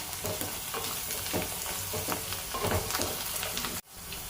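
Ivy gourd fry stirred in a pan, a continuous sizzle broken by repeated scraping strokes of the spatula, ending in a sudden cut to a quieter hiss.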